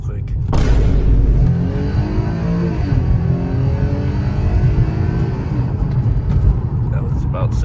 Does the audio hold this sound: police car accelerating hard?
yes